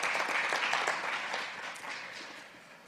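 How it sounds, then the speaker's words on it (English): An audience at a seminar day claims a speaker with warm, continuous applause that starts full and gradually thins out over a few seconds. "Please give him a big applause"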